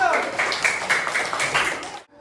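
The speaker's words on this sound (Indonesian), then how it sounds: "Tepuk tangan buat kelompok 1." Classroom pupils clapping for a group of students, a quick dense patter of many hands lasting about two seconds before stopping abruptly, fairly close and steady.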